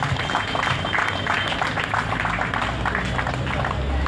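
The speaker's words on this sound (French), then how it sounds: "Nous applaudissons pour nos amis, s'il vous plaît" A crowd at a school year-end closing ceremony with choir, theatre and poetry claps steadily for friends, continuous mid-level applause with faint voices mixed in.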